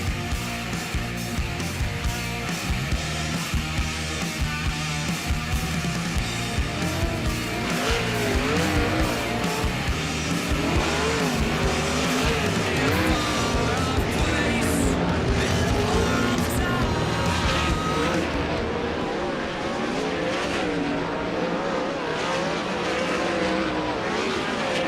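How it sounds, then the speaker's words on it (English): World of Outlaws sprint cars run hot laps at Angell Park Speedway, engines screaming continuously at high revs as several cars roar around the dirt oval, loud and close throughout, with pitch rising and falling through the corners. "Final race ready hot lap session of the evening for the World of Outlaws NOS Energy Drink Sprint Car"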